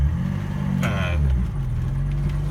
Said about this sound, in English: 3-liter inline 6 that was common in this era. And we'll just go ahead and leave it running.